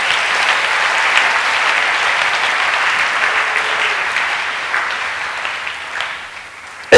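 A church congregation claps steadily and fairly loudly during a sermon, a dense continuous applause that eases off slightly near the end.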